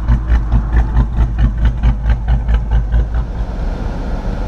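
A 2018 Jeep Grand Cherokee Trackhawk idles with a lopey aftermarket cam, its heavy low rumble pulsing in a steady uneven rhythm of about three beats per second, close and loud with no talk.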